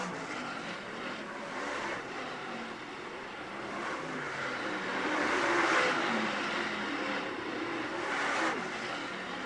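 Late model race cars on the final lap at Utica Rome Speedway give a continuous roar of engines at a distance, swelling and fading as the pack comes out of a turn, with no talk.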